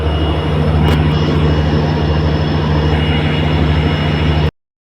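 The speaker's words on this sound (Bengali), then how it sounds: "এই ট্রেনটার একটা ডিপার্চার তুলে ধরি" Loud, steady low engine rumble with a constant hum, a heavy diesel drone of a departing train running throughout and cutting off abruptly near the end.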